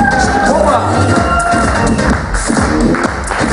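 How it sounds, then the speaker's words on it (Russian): A concert audience claps and cheers loudly and continuously, with crowd voices mixed into the applause throughout. "Аплодисменты!"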